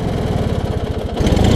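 Craftsman lawn mower with a Briggs & Stratton opposed-twin engine, idling with a steady, close, low rumble that swells louder as the engine revs up near the end.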